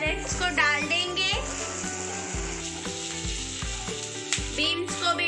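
Chopped onions and carrots sizzle and fry in a pan, a steady close crackle under background music with a person's voice in places.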